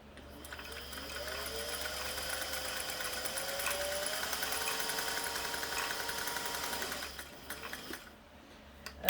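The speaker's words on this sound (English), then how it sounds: "needle down, and we're going to do a straight stitch" A Singer 500a sewing machine runs a straight stitch in one continuous rapid mechanical hum with fine rhythmic needle clatter. The motor whines up to speed, holds steady for several seconds, then slows and stops, close and fairly quiet.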